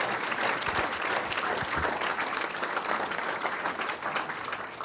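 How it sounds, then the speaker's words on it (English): An audience claps steadily after a talk, dense applause filling the room at an even level from start to finish, with no voices over it. "can we just get a round of applause for Barry?"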